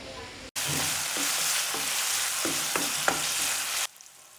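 Onions and slit green chillies sizzle in hot oil for a Kannur-style chicken curry, a steady loud frying hiss broken by several soft stirring scrapes before it cuts off near the end.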